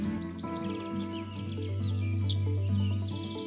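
A Wilson's bird of paradise gives high, sharp chirping calls in short repeated bursts, heard over a steady bed of low, sustained musical tones.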